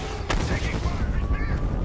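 Rapid gunfire in Batman: Arkham Knight, a dense burst of shots over rumbling action noise with a sharp crack near the start, loud and continuous under a busy battle mix.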